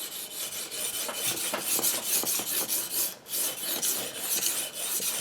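A Newfoundland skinning knife is drawn across a synthetic whetstone in steady, rhythmic rasping strokes, close and bright, each pass a smooth gritty scrape with brief gaps between.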